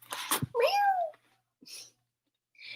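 A single human voice imitates a cat's meow, a clear rising-then-falling mew lasting about half a second, preceded by a short breathy sound and followed by faint soft noises.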